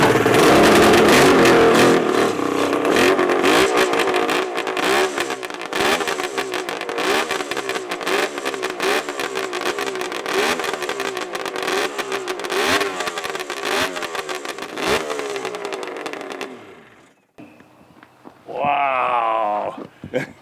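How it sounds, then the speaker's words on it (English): A classic motorcycle engine starts and revs up repeatedly in loud, rapid firing pulses that rise and fall, then cuts off, followed by a voice speaking. "Okay, Paul, let's get this baby fired up."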